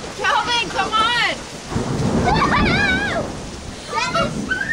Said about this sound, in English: It's gonna start raining harder.